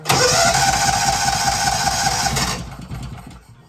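Mule utility vehicle engine with a new carburetor, first start: the starter cranks loudly with a rapid, even chugging for about two and a half seconds, then cuts off, leaving a quieter engine sound.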